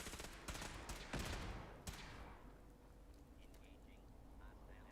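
Gunfire from a Protectron robot in Fallout 4, several sharp shots in quick succession during the first two seconds, then fading into low background ambience.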